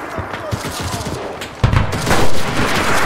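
In the World War II shooter Enlisted, bursts of rifle and machine-gun fire crackle continuously, with a louder close shot partway through and battle noise underneath.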